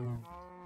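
A single low cow moo from Minecraft, short and close, fading quickly.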